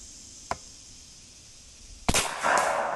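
A Seneca Dragon Claw .50 caliber PCP airgun fires outdoors. A faint sharp crack is followed later by a louder crack and a short noisy burst, two distinct shots with no talk.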